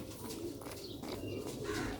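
Soft, low cooing from Sialkoti pigeons, a steady murmuring coo close by with faint chirps mixed in, no talking.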